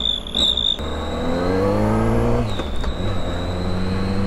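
A motorcycle fitted with a cheap Chinese turbo-whistle exhaust gadget revs hard close by, its engine roar rising and falling under a high steady whistle tone.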